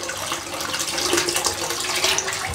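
A Claymore Evolution SE safety razor rinsed under a running tap: a steady, close rush of splashing water throughout with no break.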